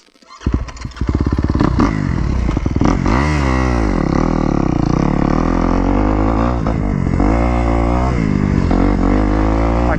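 A Kawasaki KX250X dirt bike at motocross practice roars close and loud, its engine revving up, climbing and dropping in pitch through repeated throttle swells as it rides, nearly continuous for ten seconds.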